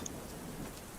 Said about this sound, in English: what you hear is just kind of the rain and thunder